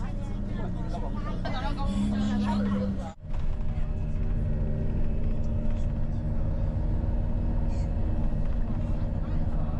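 Low, steady road rumble inside an intercity bus traveling from Yiyang to Changsha in China, a continuous engine and tire drone with a brief dropout; voices talk over it early on.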